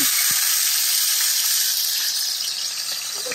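Marinated mutton liver fries in hot ghee, giving a loud, steady, close sizzle with a dense hiss and faint crackles that stays constant throughout, with no voices.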